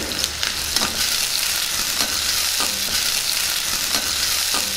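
Chopped onions and green chillies fry in hot oil with cumin for an egg pulusu, a loud steady sizzle broken by regular scraping strokes of a stirring spoon about once a second.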